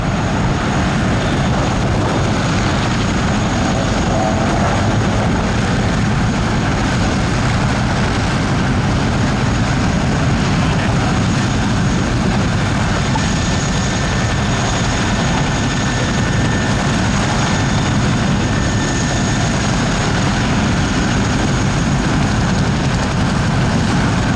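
Royal Navy AgustaWestland Wildcat helicopter flying a display at Cosford Air Show, a loud continuous rotor and turbine roar that stays dense and steady throughout with a faint high whine running along on top.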